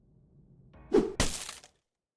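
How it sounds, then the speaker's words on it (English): Two henchmen in an audio drama bite down at the same moment: a sudden mid-range crunch followed a fraction later by a second, sharper bright snap that rings briefly, then silence; no talking. "henchmen both bite down at once."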